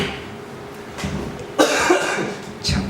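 A few coughs ring out, one louder burst in the middle and another near the end, over a quiet room tone.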